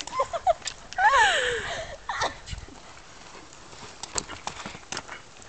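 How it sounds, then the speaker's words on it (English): A horse being ridden by a girl, with light hoof clip-clops scattered through the clip, some bird-like calls and brief voices early on. "Here's Paige riding her horse."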